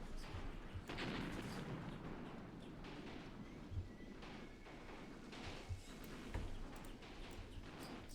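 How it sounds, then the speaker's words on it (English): Artillery and mortar fire in the video game Graviteam Tactics, heard as faint, distant thuds and crackling bursts scattered irregularly over a low background rumble. "we're getting some actually artillery shots"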